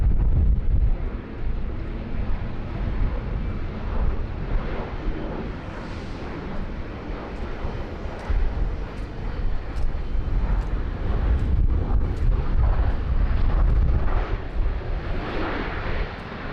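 A Virgin Australia airliner inbound from Launceston arrives at Sydney Airport, its engine roar and rushing air steady and broadband throughout, with buffeting wind noise on the microphone.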